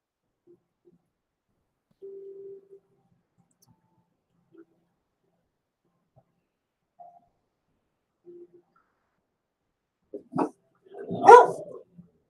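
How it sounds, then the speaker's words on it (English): A few short dog barks and whimpers come from a distance, then a louder burst of barking near the end, with quiet gaps between. "Doggies are barking at me."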